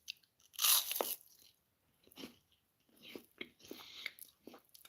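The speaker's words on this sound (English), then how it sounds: "let's see how crunchy this is" Crunchy breakfast food being bitten and chewed up close: one loud crisp bite followed by several bursts of crunching chews separated by short pauses.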